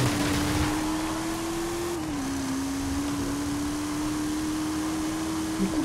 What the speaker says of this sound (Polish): to samochód przyspiesza